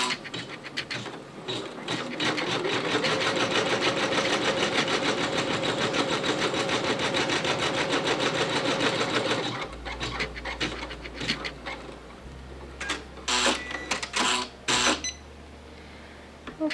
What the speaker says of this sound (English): This stitch will run the outline of the nose.